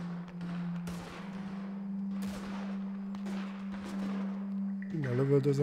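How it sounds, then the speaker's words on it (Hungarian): Gunfire in Red Dead Redemption 2 Online, several sharp shots and bursts spread through the stretch over a steady hum and in-game ambience, with a voice speaking near the end. "Innen lövöldöznek, de nem látom."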